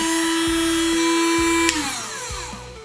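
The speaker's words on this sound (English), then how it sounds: "We'll switch our sharpener on" A 12V handheld chainsaw chain sharpener, clipped to a battery, whirs at a steady high-pitched motor whine, close and loud, with a sharp click partway through before the tone drops and winds down.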